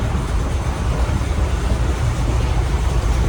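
Inside a moving passenger train from Ahmedabad to Dwarka, a continuous low rumble and rattle of the carriage fills the space with steady, close broadband noise.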